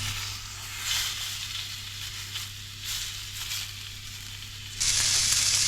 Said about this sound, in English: just searing the outside to sort of cap it all off